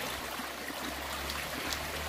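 A river flows steadily past footbridges in Barrio Bolívar, Ciudad Barrios, El Salvador, a constant broadband rush and trickle of water close by, with no voices.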